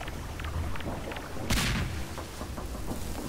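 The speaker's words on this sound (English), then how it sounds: "Grenade!" A grenade blasts in Garry's Mod, a single loud booming burst midway through, set against continuous game noise and clatter.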